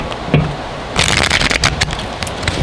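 A deck of tarot cards is riffled and shuffled up close, a brief flick followed by a longer burst of crisp, papery fluttering and scraping that tapers off.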